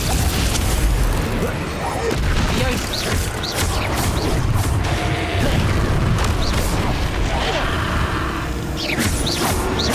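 Bombarda and Confringo spell explosions in Hogwarts Legacy on Nintendo Switch: dense, loud booms, bursts and crashes pile up continuously over a rumbling low end with no quiet gaps.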